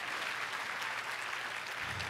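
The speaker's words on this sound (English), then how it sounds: "You should give yourselves a big round of applause just for being here and supporting this." An audience claps steadily at an inspirational charity event, a dense, even wash of applause with no pauses from start to end.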